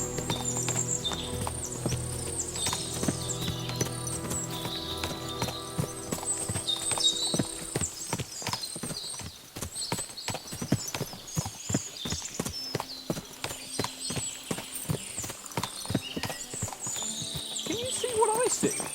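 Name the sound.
horses clip-clopping, from video game Kingdom Come Deliverance 2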